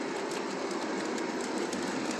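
A Canadian Pacific model train caboose rolls past on the track, giving a steady clickety-clack rumble from the wheels throughout, fairly close and alone.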